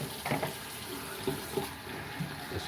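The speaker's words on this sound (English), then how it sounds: "what I'd normally do after I clean everything out is I do a rinse with fairly warm water," Warm tap water runs steadily into a sink to rinse head-shaving equipment, a soft continuous splashing flow with a few brief clatters, fairly quiet and with no talk over it.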